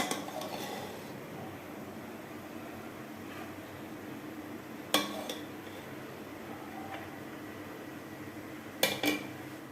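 Sweet mutanjan zarda rice is served from a cooking pot onto a dish, with two sharp clinks of a utensil against the dish standing out over a steady low background hum.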